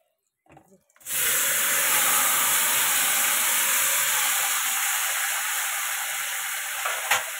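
Boiled jackfruit tipped into hot oil already tempered with cumin, dried chillies and bay leaf, bursting into a loud, steady sizzle after a short silence and a few faint clatters, the hiss holding strong to the end.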